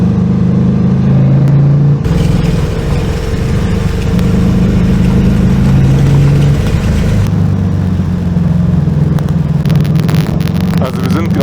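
Steady engine drone of a vehicle driving along a narrow road near a mountain pass, continuous and loud from inside, with rising and falling tone and people talking over it.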